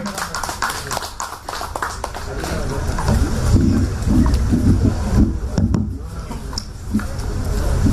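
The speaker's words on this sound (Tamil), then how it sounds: "உங்களுடைய கரகோஷங்களுக்கு இடையே" Applause from a crowd at a Chennai Port Authority safety awareness week debate event, a dense mix of clapping with murmuring voices throughout, fairly loud and continuous.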